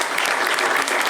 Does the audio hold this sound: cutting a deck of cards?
no